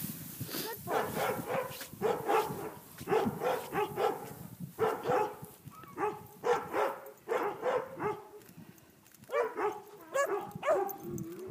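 A herding dog barks in repeated bursts of short, sharp yaps while working livestock for the first time, with brief pauses between volleys and a voice occasionally heard nearby.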